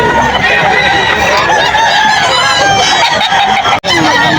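At the Bocaue pet market, a WPC bandit gamefowl rooster clucks amid many other chickens and crowing roosters. The overlapping calls are loud and continuous over a chattering crowd, and there is a brief dropout near the end.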